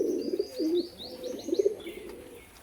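A pair of white Abluk Madras pigeons coo in soft, repeated low calls close by, mixed with brief chirps and a faint flutter.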